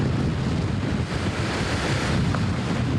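Heavy surf crashes at Jensen Beach in rough conditions, a dense continuous roar of breaking waves with strong wind buffeting the microphone and no voices.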